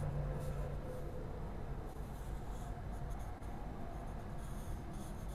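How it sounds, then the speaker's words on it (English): A charcoal pencil scratches and rubs continuously across paper while refining a human figure or portrait drawing, a steady close, faint rasp with no talking. "I'm going to switch over to my regular charcoal pencil, which is an option, and I can start to refine a little bit."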